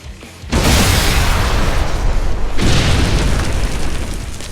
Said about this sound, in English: I dig the invisible rocket launcher trick.